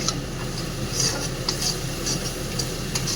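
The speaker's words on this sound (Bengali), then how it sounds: "আমি এবার একটু তেল ছেড়ে গেলে এইগুলো দিয়ে দেবো সব মশলাই দেবো কাশ্মীর লঙ্কার গুঁড়ো হলুদ গুঁড়ো জিরে গুঁড়ো সবই দিয়ে দেবো দিয়ে একটু নেড়ে চেড়ে" Kashmiri chilli, turmeric and cumin powders are stirred into hot oil for doi katla. Steady frying hiss runs under light, repeated clinks of the spoon against the pan.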